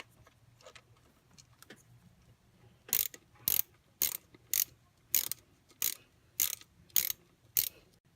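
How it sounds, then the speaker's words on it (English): Ratchet with an 8mm socket tightening screws on a 6th-generation Toyota Celica distributor, faint clicks early on, then eight sharp, evenly spaced ratcheting bursts at a steady rhythm, close and alone. "use your 8mm socket to tighten that up."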